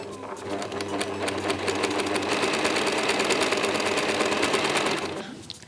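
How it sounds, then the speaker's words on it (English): A sewing machine runs steadily for about five seconds, stitching a zigzag seam on clothing with a fast, even mechanical rattle, then winds down and stops. "So now I finish it off with a little zigzag stitch."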